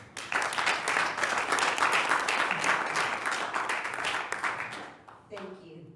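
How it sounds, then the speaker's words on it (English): An audience at a session on trauma and coping applauds a speaker, steady dense clapping filling about five seconds before tapering off, with a voice starting up at the end. "So let's give her a round of applause."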